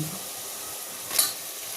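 Mutton pieces fry in a pan with ginger garlic paste for a Telangana-style curry, a close, continuous hiss of sizzling oil with a brief louder crackle partway through.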